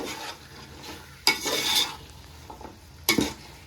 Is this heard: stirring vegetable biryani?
yes